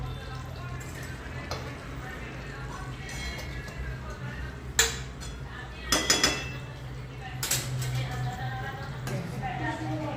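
Cooked dhaba-style brinjal masala being served from a pan into a dish: a few light clinks and scrapes of utensil on metal, close by, over a steady low background hum.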